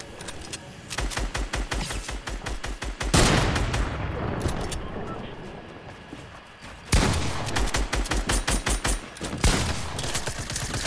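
Loud, rapid bursts of gunfire from the Fortnite video game, dense volleys with brief pauses and one heavy blast, sustained throughout with no talk.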